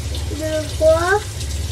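Water runs steadily from a newly installed camper van kitchen faucet, a soft continuous flow while people talk over it at close range.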